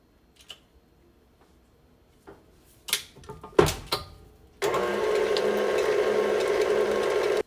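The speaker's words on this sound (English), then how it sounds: "I'm going to cream my butter till it's nice and creamy and turns into a pale, like a light pale color" Electric mixer creaming butter in a bowl for a churro layer cake: a few clunks and knocks as it is set up, then the motor starts and whirs steadily and loudly, with no talking.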